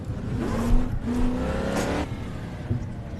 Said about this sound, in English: little V8, dude, you're not beating the sound